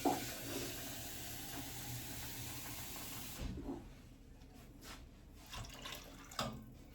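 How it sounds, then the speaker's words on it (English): Water gushes from a tap into a pot for a few seconds, then stops abruptly, leaving quiet clinks and handling noises. "Let me get some more water in here."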